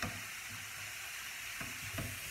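Quiche filling with onions simmering gently in a pan, a low steady sizzle with a couple of soft stirring clicks, close and quiet without talk.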